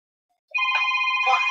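A phone rings at an indoor work site, starting abruptly after a moment of silence and continuing as a loud, steady electronic ringtone with bright tonal bursts.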